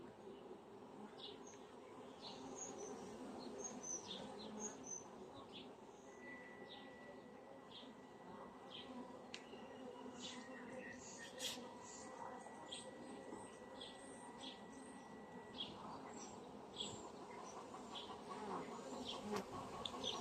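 Honeybees in a hive being split from a colony inclined to swarm: a dense, steady buzzing hum up close and continuous throughout, with faint chirps in the background.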